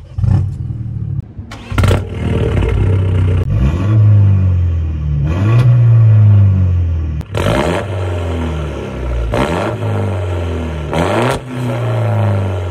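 A Peugeot 208 GTi with a decatted stainless downpipe and the muffler removed revs hard in a series of loud, sharp blips, each rising and falling quickly, with brief idle between bursts and crackling on the overrun.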